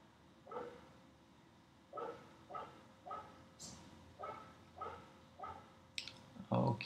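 A dog barks in the background, faint and distant, with about seven evenly spaced barks in a quiet room.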